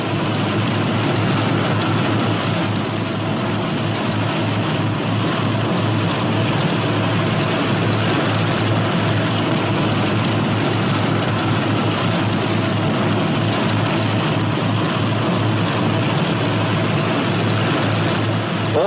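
Twin radial engines of a P-61 Black Widow night fighter idling on the ground, a steady, loud, continuous low rumble and drone that holds evenly throughout with no voices.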